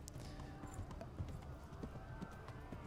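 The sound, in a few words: horse hooves while riding, video game Kingdom Come: Deliverance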